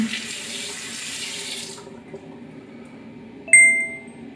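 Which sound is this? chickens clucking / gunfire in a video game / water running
water running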